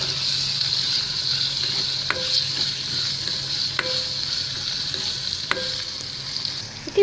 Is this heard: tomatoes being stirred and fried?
yes